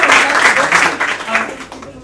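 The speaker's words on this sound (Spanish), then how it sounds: "aplausos, espontáneos" Spontaneous applause fills a tech meetup room, a dense burst of many hands clapping loudly for a couple of seconds before tapering off at the end.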